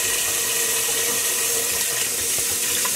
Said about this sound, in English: I'm gonna put some warm water in the pot in here